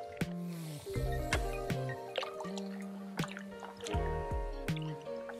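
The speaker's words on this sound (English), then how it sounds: "now I'm going to put this in a bucket of water, not vinegar, just so that they stay submerged." Underwater fish light lowered into a bucket of water, giving close, irregular drips, plops and sloshing splashes with gurgling bubbles throughout.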